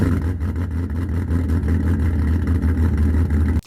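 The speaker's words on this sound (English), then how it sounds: "you've probably heard those big V8s with that glorious choppy idle that sounds like someone dragging a shovel down the driveway" A big V8 with an aggressive, lumpy cam idles loudly and close by, its deep exhaust loping in an uneven, choppy rhythm that holds steady before cutting off abruptly.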